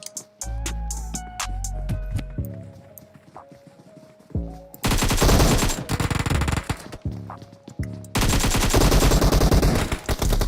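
Video game gunfire from PUBG Mobile during a competitive squad match: rapid bursts of automatic fire and single shots crackle over game music, with dense, loud sustained volleys in the second half.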